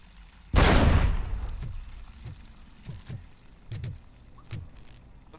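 Turret gunfire in the video game RoboCop Rogue City opens with one loud roaring blast, followed by a string of dull, spaced thuds and impacts at moderate volume.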